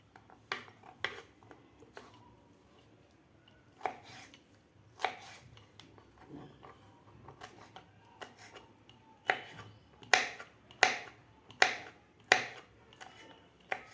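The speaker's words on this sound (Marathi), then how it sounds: "पूर्ण आपल्याला हे अन्नासच्या स्लाईस कापून घ्यायचे आहेत" A knife chops pineapple into fine slices on a board, making sharp, close taps. They come sparsely at first, then in a quicker, louder run of strokes near the end, with no talking.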